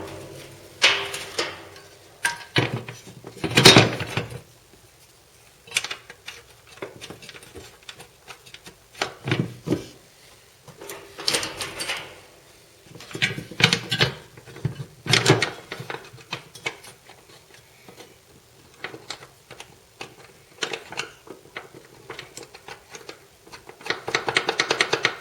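Installing a welded scrap-metal gearbox support bracket onto the original mounts, with scattered metallic clanks, knocks and scraping handling sounds in irregular bursts, close and moderately loud, with quieter shuffling between.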